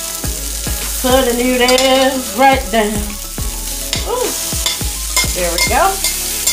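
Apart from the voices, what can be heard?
noodles sizzling as they go into the pan with short-rib seasoning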